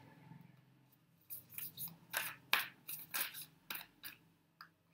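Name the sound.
shuffling tarot cards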